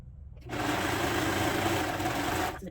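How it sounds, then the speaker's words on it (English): A serger runs steadily on a cardigan shoulder seam, fabric fed through continuously in one sustained, close mechanical whirring burst that starts abruptly and stops after about two seconds, with no talking. "with the serger, I kind of just keep feeding it in"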